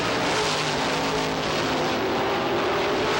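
Supermodified race cars roar around Lee USA Speedway, a dense, continuous engine howl that stays loud and steady throughout with no voices over it.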